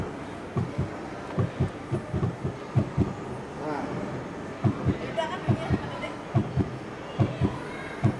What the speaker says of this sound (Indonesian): Ini detak jantung kita.